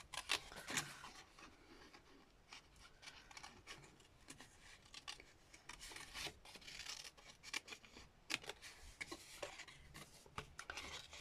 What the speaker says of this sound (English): I'm literally just fussy cutting around here.